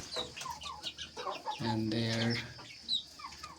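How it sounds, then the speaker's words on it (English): Chickens on a small farm cluck repeatedly, with a louder, sustained call in the middle, while someone talks briefly over them. "I have total 40 chickens right now, and small chicken are"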